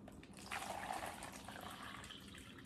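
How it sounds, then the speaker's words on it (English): Liquid poured into a container, a steady splashing trickle that starts abruptly and continues softly for a couple of seconds, near and fairly quiet, with no speech. "you want to pour that liquid into your container."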